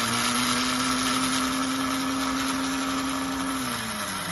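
A sewing machine's bobbin winder runs as one steady, loud motor whine with a constant pitch, then slows and drops slightly near the end. No voices are heard.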